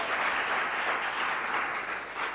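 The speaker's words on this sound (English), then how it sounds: "let's give Sun City an applause to say thank you very much, the work that you're doing." Steady applause from an event audience at a provincial tourism stakeholder gathering, a dense sustained wash of clapping that stays loud and even throughout, with no voices on top.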